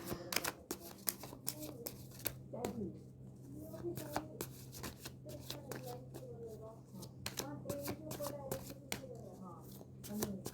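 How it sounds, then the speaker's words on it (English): Tarot cards are shuffled and picked in rapid, repeated riffling flicks and slaps, close and soft, while a voice murmurs under them and a steady low hum runs throughout. "Let us try to pick a card."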